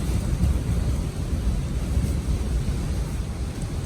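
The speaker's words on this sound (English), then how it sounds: "the wind is just howling" Strong snow-squall wind of over 50 mph roars steadily around an ice fishing shack on a frozen lake, a loud, continuous low rumble with buffeting gusts and no talking.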